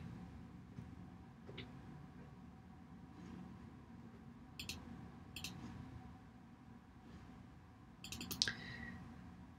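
Computer mouse clicks on a desk while downloading a PDF book cover in Canva, a few sharp, faint taps in two quick pairs and a tight cluster near the end, over quiet room hiss.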